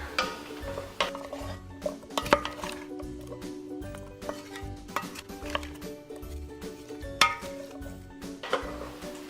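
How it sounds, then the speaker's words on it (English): A spoon stirs a pot of soup with garlic and butter, giving repeated clinks and scrapes against the metal at an uneven rhythm over soft background sizzle. "Give this a little bit of a stir."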